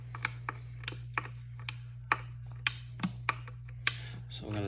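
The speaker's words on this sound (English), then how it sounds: "So we're going to tighten up the remaining screws" Screws are tightened on a Burnham Alpine high-efficiency boiler, a close series of sharp ratcheting clicks at a fairly regular pace over a constant low mechanical hum.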